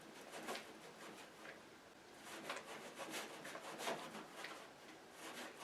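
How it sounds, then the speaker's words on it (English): Honey and nut butter being stirred together in a bowl for homemade protein balls, giving soft, repeated rubbing and scraping strokes in a steady rhythm, close and fairly quiet, with no talk. "first I'm going to mix the honey and the nut butter together."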